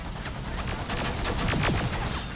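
Heavy gunfire in the shooter video game Terminator: Resistance, a dense continuous fusillade of overlapping shots and bursts, loud and unbroken, with no speech over it.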